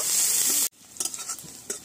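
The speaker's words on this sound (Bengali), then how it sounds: "পেঁয়াজটা একটু লাল লাল করে নেব।" Chopped onion and crushed garlic with whole cumin and dried chilli frying in a pan, a bright steady sizzle that cuts off abruptly, followed by scattered stirring scrapes and pops.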